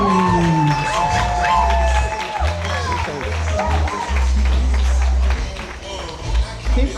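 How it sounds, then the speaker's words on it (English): An audience at a comedy performance by someone at EVOKE, Emory University, claps and cheers in a loud, dense mix with whoops and shouted voices over the sustained applause. "Keep clapping, keep clapping."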